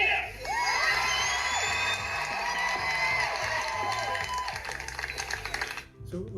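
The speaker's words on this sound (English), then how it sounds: "Let's hear a cheer." A crowd at a youth baseball league opening-day event cheers and whoops loudly, children's shouts and high yells tumbling together for several seconds before cutting off abruptly near the end.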